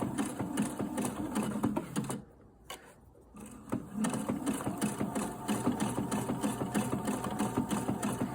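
A Viking sewing machine runs at a steady rapid stitching rhythm while hemming the edge of fabric for homemade underwear, close and continuous, with one short pause partway through.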